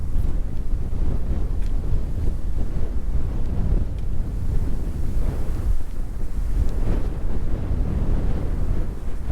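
Strong wind roars steadily across an open mountain meadow beside a tiny creek, buffeting the microphone with a loud, continuous rumbling gust that never lets up.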